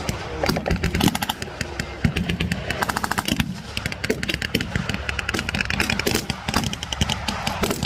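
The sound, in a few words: 50-pound machine gun firing on American half-track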